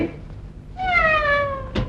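A cat gives one clear, drawn-out meow close by, falling slightly in pitch, with faint background noise before and a short knock at the end.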